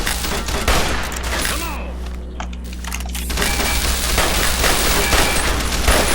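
Rapid bursts of gunfire in Fallout: New Vegas crackle through a battle against a Legion army, dense volleys with booming hits over a steady low rumble, briefly thinning before resuming loud and continuous.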